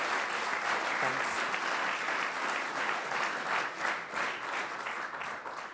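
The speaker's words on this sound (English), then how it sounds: "I think this deserves already an applause" Conference audience applauding steadily and loudly throughout, a dense wash of clapping hands filling a hall with no pauses and a slight easing toward the end.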